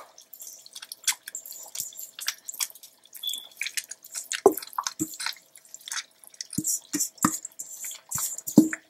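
Wet, squelchy drips and soft slaps as shredded meat goes back into a pot of haleem stew on the stove, a scattered run of close, moist plops with no talk.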